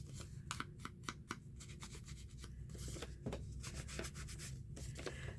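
Sandpaper rubbed by hand over vintage journal paper to dull its white, a steady close-up scratchy rasping in repeated short strokes with no talking.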